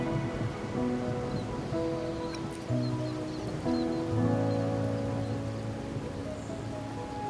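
Steady rain falls in a video game, a dense continuous hiss under layered sustained musical tones with faint soft thuds, even and moderately loud throughout.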